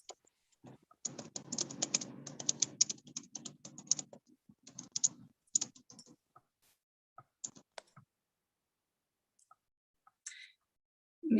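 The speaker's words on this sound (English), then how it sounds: "I was typing over here" Fingers type on a computer keyboard in quick, quiet bursts of clicking keystrokes, with several pauses between runs and a few isolated taps near the end.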